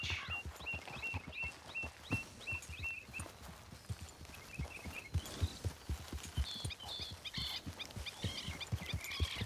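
Horse hooves clip-clop steadily at a trotting pace in Red Dead Redemption II, moderately near, with faint bird chirps scattered over the top.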